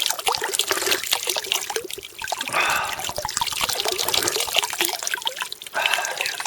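Water trickles and splashes as someone plays with it outdoors, a close, continuous bubbling and dribbling with irregular splashes throughout.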